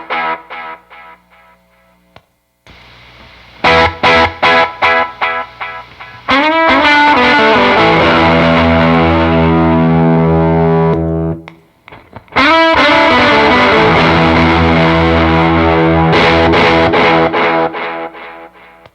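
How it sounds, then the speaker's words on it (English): An electric guitar played through a Belle Epoch tape echo pedal into an amp, with no hiss: distorted strummed chords and picked notes ring out with repeating echoes, alternating with brief pauses. "Here's the Belle Epoch. No hiss."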